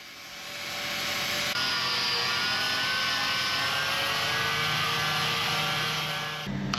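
A Hercules grinder with a sandpaper flap disc grinds a steel weld on a dump trailer tailgate, holding a loud, steady whirring drone that builds up and then cuts off abruptly.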